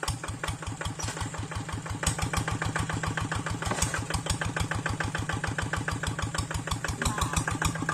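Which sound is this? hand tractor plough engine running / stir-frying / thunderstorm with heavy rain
hand tractor plough engine running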